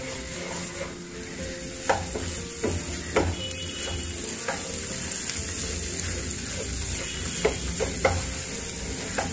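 Spices being stirred into vegetables in a pan for raw turmeric curry: a steady sizzle with scraping stirs coming at irregular intervals, close and moderately loud, with no talking.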